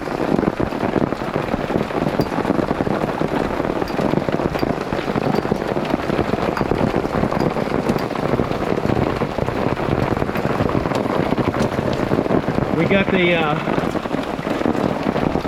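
Hail and rain hammer the fiberglass top of a Jeep during a mountain storm, a dense, steady drumming patter throughout, with a brief voice speaking near the end.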